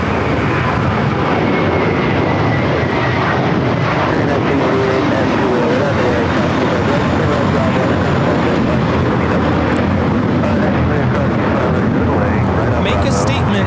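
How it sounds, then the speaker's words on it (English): A JetBlue Airbus A321 takes off with a loud, continuous jet engine roar that fills the whole spectrum and holds steady throughout, while people talk over it. "Taking off the JFK, JetBlue 324. It's an A321."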